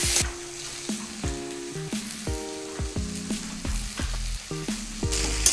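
Rice is stir-fried in a pan with schezwan sauce for schezwan fried rice, giving a steady close sizzle with repeated scraping and clanking stirs, and no voices.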